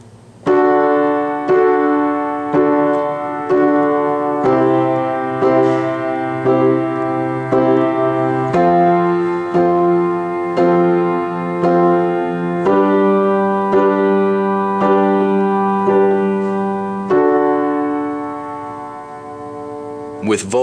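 Piano chords and a bass line of a song played together with both hands in a steady, repeating pattern, each chord struck clearly and left to ring, with no voices.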